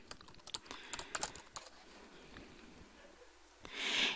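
Fingers tap on a computer keyboard in quick, quiet bursts of clicks, faint and close, fading toward the end.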